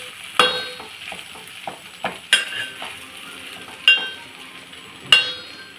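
Cluster beans curry frying in a pan, with a soft sizzle underneath and several sharp clinks and scrapes as a spoon stirs against the pan at irregular intervals.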